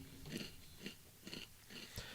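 Crunchy Twinkies cereal is chewed close up in quiet, rhythmic crunching bites, about four in two seconds.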